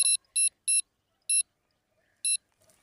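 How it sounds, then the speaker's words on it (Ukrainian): Sharp electronic beeps from a fishing bite alarm by a pond chirp in short bursts, five of them at uneven intervals, loud and close against near silence. "Так, поставив сигналізатор вже."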